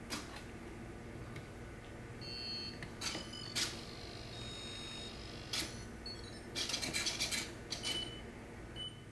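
Short electronic beeps from a rocket flight computer booting up on a thrust-vector-control model rocket build, several separate chirps spaced over a faint steady background hum.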